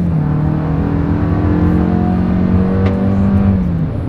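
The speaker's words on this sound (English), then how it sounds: "let's see how quickly we can get this one here up to speed" A 2024 Toyota RAV4 SUV accelerating in sport drive mode, a steady loud engine drone rising in pitch as it gains speed, heard from inside the cabin with no talk.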